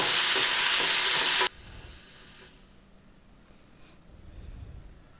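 Onion and tomato sauté in a pan for restaurant-style poori masala, a loud broadband sizzle with stirring for about a second and a half, then dropping to a quieter, steady hiss that fades lower.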